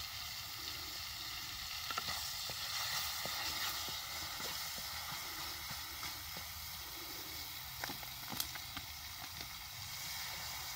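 Tadka tempering sizzles steadily in a hot pan, a continuous close frying hiss with small crackles and pops throughout and no talking.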